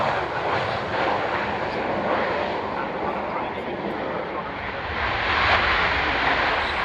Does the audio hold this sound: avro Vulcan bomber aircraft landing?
yes